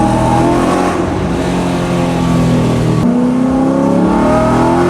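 A Ford Coyote V8 in a widebody 1965 Mustang restomod revs hard and close, a loud continuous crisp, raspy engine note that dips briefly around the midpoint before pulling back up, with no talking.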